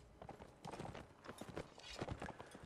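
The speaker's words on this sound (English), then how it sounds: "So, Yoshi manages to get onto a horse." Horse hooves clop in the Mount & Blade multiplayer line battle game as a mounted unit moves, with quick, uneven hoofbeats over a busy game backdrop.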